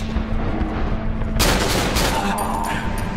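Gunfire in the horror game Cry of Fear, a sustained burst of rapid shots kicking in loud and close after a steady background hum, with someone talking over it.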